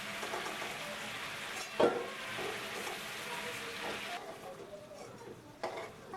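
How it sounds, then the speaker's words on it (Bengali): Chicken sizzles in oil over medium heat, a steady hiss broken by a sharp clatter of stirring near the start and a softer knock later on. "মাঝারি আঁচে একটু নাড়াচাড়া করে চিকেনটা অল্প একটু ভেজে নেব"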